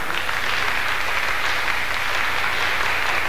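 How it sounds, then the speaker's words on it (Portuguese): Steady, dense applause from a studio audience at a 1997 Brazilian television music program honoring a guest, loud and sustained throughout with no voices. "a você eu ofereço o aplauso desta plateia"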